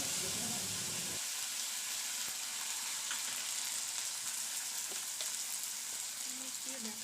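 Homemade paste of onion, ginger, garlic, green chilli and tomato frying in a pan for aloo dum, a steady close sizzle after a louder first second, with faint stirring and no talk.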